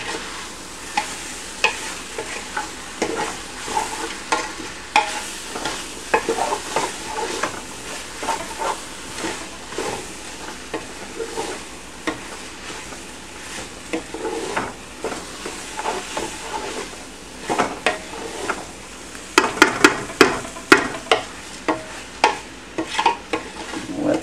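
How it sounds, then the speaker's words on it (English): Quinoa, kaniwa and amaranth pilaf with chili sizzles and hisses in a hot pan while it is stirred, with steady frying crackle, scraping utensil strokes and clustered clicks near the end. "So we'll give this a little bit of a stir."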